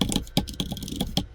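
Git commands are typed on a computer keyboard in a brisk run of close, crisp key clicks, with a few sharper strikes standing out from the steady patter.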